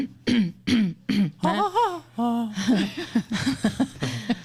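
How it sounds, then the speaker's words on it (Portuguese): Someone repeatedly clears their throat as a vocal tic in short harsh bursts, followed by a few voiced hums and rough throaty noises, close and clear. "Pode ser, por exemplo, limpar a garganta."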